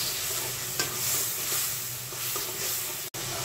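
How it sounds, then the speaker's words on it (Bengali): Garlic paste hitting hot oil in a pan, a dense, close sizzle with steady stirring strokes, continuous apart from one abrupt brief dropout near the end. "রসুন পেস্ট করা দিয়ে দিলাম 1 চামচ।"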